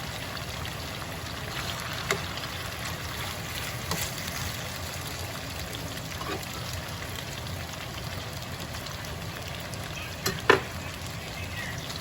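Potatoes frying in a breakfast skillet give a steady, even sizzle that runs throughout, with a few faint clicks and taps from the pan scattered on top.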